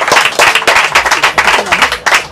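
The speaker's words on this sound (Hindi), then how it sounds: "हम ताली बजाकर परमेश्वर के लिए महिमा करेंगे." A church congregation at a Mumbai worship service claps hands together in praise, a loud, dense burst of sharp irregular claps running the whole moment with faint voices mixed underneath.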